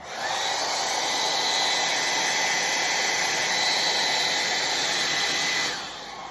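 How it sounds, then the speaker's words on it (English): A hair dryer blows steadily at close range on shrink wrap for several seconds, a constant high whooshing whine that drops off sharply at the end. "just get your hairdryer out and start"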